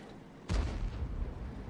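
An M53 self-propelled artillery gun fires a shell in a video game, a sudden deep boom followed by a rumbling, lingering roar that fades slowly.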